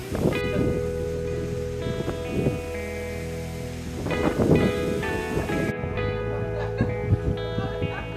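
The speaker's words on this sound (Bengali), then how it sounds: "বাতাসের জোরটা দেখেন" Strong wind gusting across Chandranath hill at Sitakund, a steady roaring rush with louder surges, mixed with someone talking and some background music throughout.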